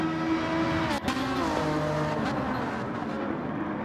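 Race cars including an NSX in Gran Turismo 7 online league racing at Maggiore, engines droning and revving steadily with shifting pitch as cars run close together, loud and continuous.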